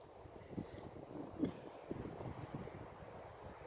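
Low, faint rushing of wind through trees, a continuous soft roar with slight gusts, no voices.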